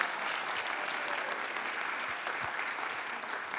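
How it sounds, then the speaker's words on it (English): Warm applause from a panel audience at 1 Million Cups Kansas City, steady crowd clapping throughout, fairly soft and somewhat distant, with a few heavier claps standing out. "can we please give a warm round of applause for Adrienne being an awesome moderator?"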